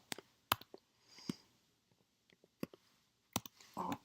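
Typing on a computer keyboard in short, irregular bursts of close, quiet key clicks separated by pauses, with a brief louder rustle near the end.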